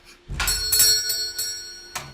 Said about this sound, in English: The small bell above the door twinkled as I walked in.